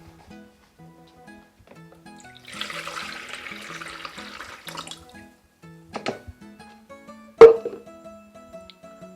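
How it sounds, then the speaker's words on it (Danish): About half a liter of lukewarm water is poured for homemade pizza dough: a soft, steady splashing stream for a couple of seconds, then a few sharper drips and knocks in a quiet kitchen. "Vi starter her med cirka en halv liter vand, og det skal helst være lidt lunkent."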